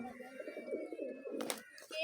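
Pigeons coo low and steadily nearby, with a voice talking over them and a brief rustle near the end.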